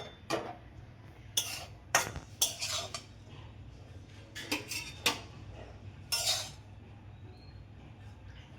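A metal lid is handled and set back on a cooking pot of banana stem with prawns, giving several sharp clinks and clatters close by in a quiet kitchen.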